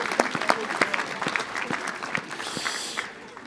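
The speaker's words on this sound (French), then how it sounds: "On peut l'applaudir également." Applause at a town mayor's New Year ceremony, a moderate room of people clapping with distinct individual claps standing out, tapering off toward the end.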